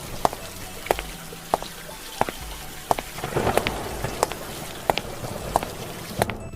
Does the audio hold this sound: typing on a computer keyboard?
no